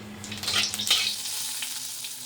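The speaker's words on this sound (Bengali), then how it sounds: "তো এবার পেঁয়াজ, শুকনো লঙ্কা আর কালো জিরে দিয়ে ভাজা ভাজা করবো।" Onion, dried red chili and black cumin frying in a pan: a close, steady sizzle with soft stirring scrapes, busiest early and then settling into an even crackle.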